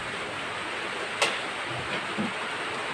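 A steady, even hiss of rain fills the background, falling on a parked Yamaha YBR 125G motorcycle, with a single sharp tick and a few soft knocks standing out.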